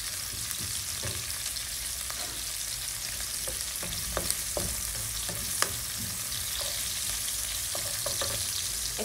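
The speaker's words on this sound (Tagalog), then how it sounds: "Antayin lang natin na medyo brown na yung sibuyas." Sliced onions frying in a pan, a steady close sizzle with occasional sharp pops and crackles throughout, no voices.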